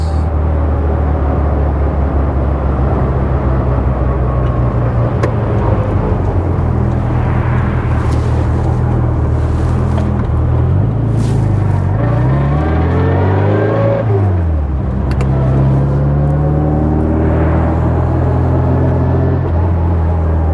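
A restored 1960 Bugeye Sprite with a 1275 engine and front disc brakes drives along, its engine droning loudly and continuously, rising and falling in pitch as it revs through the gears, with no voices.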